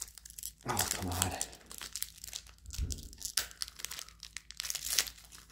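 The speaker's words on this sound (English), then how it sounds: "Today we're opening up another pack of Twilight Masquerade." A Pokémon TCG Twilight Masquerade card pack is torn open by hand in a hotel room, giving close, faint crinkling and tearing foil rustles in several short bursts.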